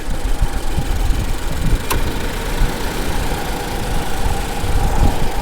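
The supercharged engine of a 2016 Subaru BRZ with an Edelbrock supercharger idles steadily and close by, a dense, even rumble with a faint whine on top and one brief sharp tick partway through.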